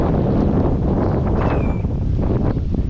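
Strong, blustery wind roars steadily into the microphone outdoors in the aftermath of Hurricane Ian, a loud, continuous broadband rush with gusty surges and no voices.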